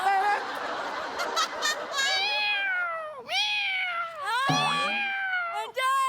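A man imitates a cat on a Marathi comedy stage show, drawn-out meowing wails that rise and fall, close and loud, repeated several times, with laughter and chatter in the background at the start.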